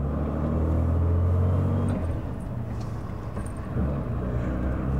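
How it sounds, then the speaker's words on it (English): A manual, unrestored Aston Martin DB6 Mk2 drives on the road after brake work, its engine a loud, close, low rumble that holds steady, dips around midway, then swells again as the car accelerates. "We're going to take the car for a run"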